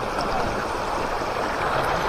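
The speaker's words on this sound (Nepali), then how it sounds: "यहाँ चाहिँ धारा छ" Water pours steadily from a spout at a village tap in rural Nepal at night. It makes a continuous, even splashing rush with no pauses and no voices over it.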